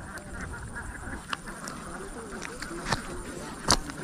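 Ducks quack near a riverside fishing spot, several short nasal calls in scattered bursts at moderate distance over a steady outdoor background.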